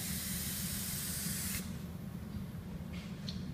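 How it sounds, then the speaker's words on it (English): Activator is sprayed onto a black carbon fiber hydro dipping film over a Corvette center console, giving a close, steady hiss for about a second and a half, then quieter faint hiss with brief spurts. "spraying the activator on."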